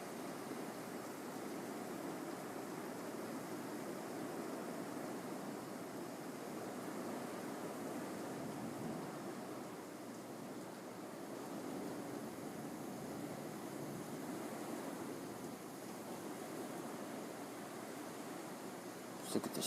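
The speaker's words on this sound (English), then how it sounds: "Just look at the sheets of water just pounding." Heavy rain pours down in sheets during a February thunderstorm in New Jersey, a dense, steady hiss that stays faint and unbroken throughout.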